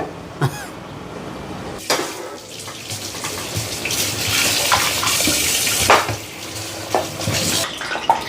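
Water runs from a kitchen tap in a steady, loud rush while cooking a chicken meal, broken by clinks and splashes of a vessel being filled or rinsed, with no talking.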